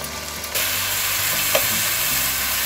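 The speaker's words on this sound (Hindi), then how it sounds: "अब हम इसमें ऐड करेंगे ये थोड़ा सा पानी, और इसको हल्का सा हिलाएंगे" Water poured into a pan of chicken chili, a sudden surge of hissing sizzle followed by steady bubbling and light stirring clatter, close and fairly loud, no talking.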